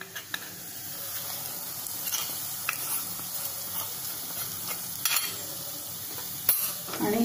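Hot oil tempering with asafoetida poured over cooked chakvat greens crackles and sizzles in a steady hiss, broken by a few sharp clinks and stirring scrapes, with no talk.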